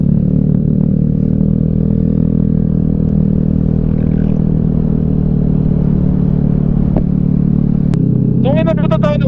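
Vespa scooter ridden through the Summerlin downtown streets, a steady loud engine drone with wind rumble throughout and a brief clatter, while voices talk over it near the end.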